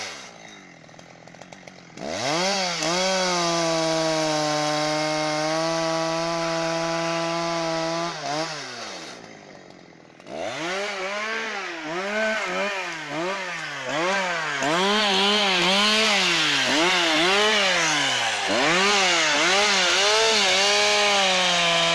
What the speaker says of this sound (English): Using powerful chainsaws,